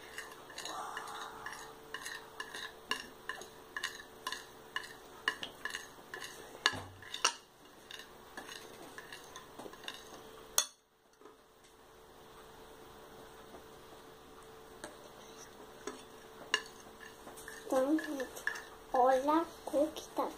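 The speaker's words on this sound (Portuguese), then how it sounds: "Deixa eu misturar." Homemade purple slime stirred in a bowl: repeated sticky clicks and scraping at close range, with a short break midway and a voice speaking briefly near the end.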